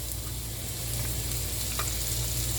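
Chopped onion sautéing in melted butter, giving a steady close sizzle with soft crackles and a continuous low hum beneath, no talking.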